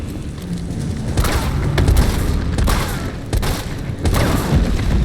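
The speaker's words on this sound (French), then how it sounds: "j'ai balancé une grenade du coup incendiaire au moment où il allait me sauter dessus" Incendiary grenade bursting in a survival-horror video game battle against a bestial Nemesis, heard as loud booming blasts and crackling bursts repeating over about five seconds amid constant in-game action noise.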